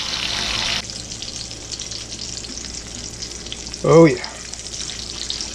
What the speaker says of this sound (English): bacon fat is nice and hot now. It ain't gonna take no time at all. And I'll go ahead while it's cooking up